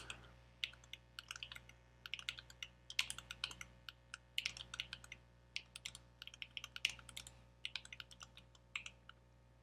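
Keys clatter on a Mac computer keyboard as a file name is typed, quiet bursts of rapid clicks separated by short pauses, close and clear over faint room hum.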